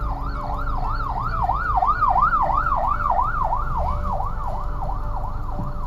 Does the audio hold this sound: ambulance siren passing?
yes